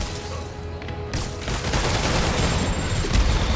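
Gunfire in the Marvel's Spider-Man video game, a dense burst of rapid shots and crackling impacts building into a loud, sustained volley, with no speech over it.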